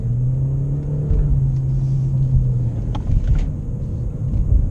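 A 2018 Ford Fusion SE driven in sport mode, a steady low engine rumble with a slowly falling drone and road noise heard from inside the cabin.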